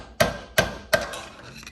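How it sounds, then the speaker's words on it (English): Three sharp metallic hammer raps on a screwdriver, knocking out an old seal on a Kawasaki FR730V engine from a Cub Cadet Z Force mower, evenly spaced about a third of a second apart, close and loud with short ringing decay. "taking a hammer and giving it a couple of good sharp wraps, and it should just come right out"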